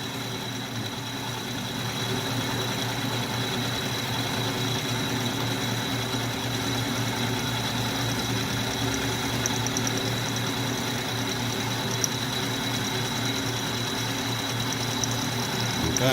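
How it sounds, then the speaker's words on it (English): An old metal lathe, about 83 years old, runs with a dull end mill, giving a steady, continuous mechanical drone and hum with a constant rhythmic rattle throughout. "Like this lathe is 83 years old or so."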